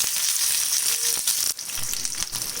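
Onions fry in a hot pan for a Matar Paneer base, a steady close broadband sizzle with a brief dip and crackling bursts near the middle, no voices.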